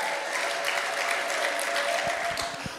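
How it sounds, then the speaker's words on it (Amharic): A church congregation applauding during a sermon, dense sustained clapping from a large crowd in a hall, loud and continuous, thinning slightly toward the end. "አጨብጭቡ ለሰራዊት ጌታ ለእግዚአብሔር"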